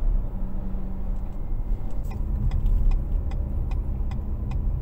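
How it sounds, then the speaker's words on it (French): Renault Arkana hybrid with a 1.3 litre petrol engine revving hard while driving, a steady loud cabin drone with road rumble and faint ticking, no talk. "le moteur monte quand même pas mal dans les tours"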